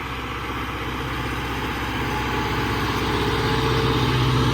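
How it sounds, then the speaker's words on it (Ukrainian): New tractor engine in the field cultivating ground for sunflower sowing, a steady, loud, low throbbing drone that holds constant and rises slightly over a few seconds, with no talk. "Культивіруємо новим трактором"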